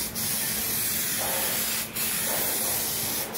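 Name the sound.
spray gun applying wet clear coat on Click 125 body cover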